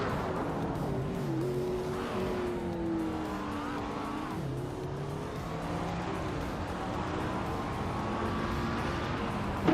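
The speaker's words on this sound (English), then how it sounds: "Zenyahima and Turbo Benzina are nose to nose" Race cars battling on a track, a continuous roar of several engines with shifting whining pitches and tire squeal, sustained and dense throughout.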